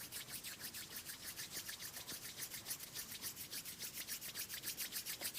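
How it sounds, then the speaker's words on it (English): Hands rubbing together gently as a self-soothing exercise, a soft, steady rhythmic swishing of skin on skin, close and quiet, continuous and alone. "And very gently rub your hands together in front of your eyes."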